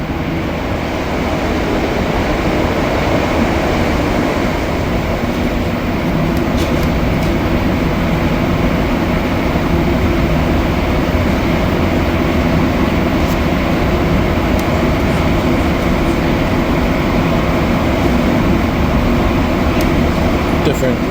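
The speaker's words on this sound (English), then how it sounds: "Have to do an MR73 train ride in vertical mode eventually" Montreal Metro MR73 subway train running between stations, a loud continuous rumble and roar of rubber-tyred cars with whining hiss and occasional rattles, steady the whole way through.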